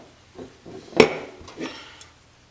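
A metal block taken off the grip of a Grizzly Mark I pistol during disassembly, a few close metallic clinks and scrapes with one sharp knock in the middle.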